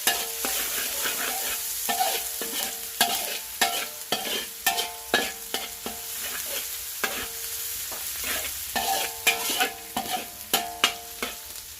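Garlic or aromatics fry over medium heat in a large wok for pink coconut-milk rice noodles, with a steady sizzle and a quick run of metal spatula scrapes and clanks close by. No one speaks.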